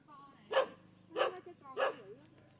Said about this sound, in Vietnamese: Ôi, con chó nó sủa mà.